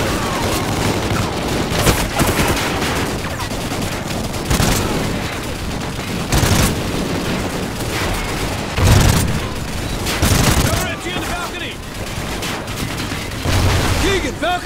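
Sustained automatic gunfire crackles through a Call of Duty: Ghosts battle, mixed with booming blasts and irregular bursts, while soldiers' voices shout over the combat.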